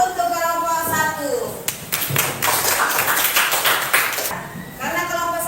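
A classroom group claps for about three seconds, a dense burst of applause with voices talking before and after it.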